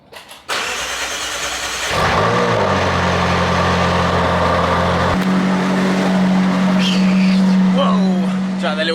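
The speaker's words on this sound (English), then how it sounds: "I'll put you guys down here for a cold start. This is standard stock 540C" A stock McLaren 540C with its standard exhaust cold-starts with a cranking whir, fires up with a loud bark and settles into a steady, high idle. A voice is heard near the end.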